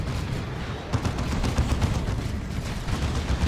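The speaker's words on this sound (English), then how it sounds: "Decent Plasma Cannon's first shot." A plasma cannon in the strategy game Dawn of War 2: Retribution fires amid a battle, loud crackling shots and impacts layered over a dense, steady roar of combat noise.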